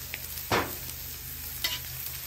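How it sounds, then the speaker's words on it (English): Beans heat on the hot spot of a griddle, a faint steady sizzle with two short scraping stirs, close up and without any speech. "now you can see my beans are starting to come up to boil"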